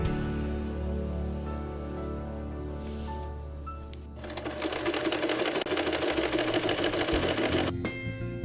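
Sewing machine stitching a seam for a mitered quilt corner. A low hum starts the clip, then a steady, fast run of mechanical stitching lasts several seconds, close and loud with no talking.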